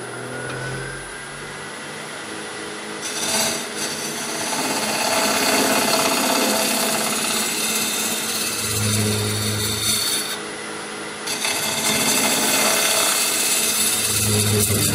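A power carving tool with a big round cutter grinds into a wooden bowl, a loud, continuous abrasive whine with brief pauses and changes in pitch as the cutter lifts off and bites back into the wood.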